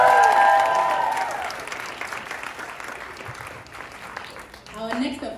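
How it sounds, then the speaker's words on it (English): An audience applauds performers at an international extravaganza show, loud clapping overlapping with a fading musical tone at the start, then thinning to steady applause as voices and a brief sound rise at the end. "Can we please give them another round of applause?"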